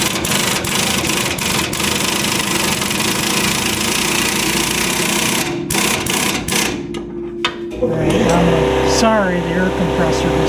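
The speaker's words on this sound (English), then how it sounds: "the air compressor just kicked on" An air compressor kicks on in a garage during restoration of a 1966 Ford Galaxie 500 convertible, a loud steady motor drone running throughout, with clanking tool sounds near the end.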